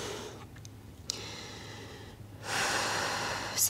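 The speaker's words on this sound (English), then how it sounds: "And just taking some deep breaths here." Deep breathing during a full-body workout cooldown, with a couple of soft sniffing inhales followed by a long, loud, airy exhale up close, and no talking.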